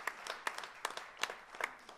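A small audience at a live band performance claps for the sound engineer, a sparse scattering of individual claps from a few people, fairly close and uneven.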